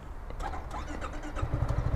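Yamaha Tricity 300 three-wheel scooter starting up in a brief clip, with a starter whirr and then a low engine rumble settling into a steady pulse.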